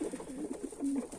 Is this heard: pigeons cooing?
yes